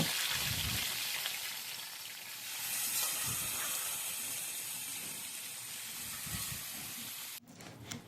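Potato and papaya pieces fry in oil in a kadai, giving a soft, steady hiss of sizzling that runs fairly evenly and quietly throughout, with no talk.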